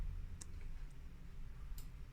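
Computer keyboard key presses and mouse clicks come through as a few faint, sharp clicks spaced apart over a quiet room hum.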